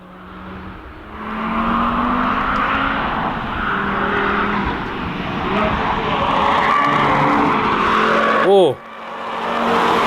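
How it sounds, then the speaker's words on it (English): A camouflaged next-generation Audi RS3 skids with loud, sustained tire squeal over engine noise. A voice briefly exclaims near the end, just before the squeal cuts off. "the driver is making those tires squeal"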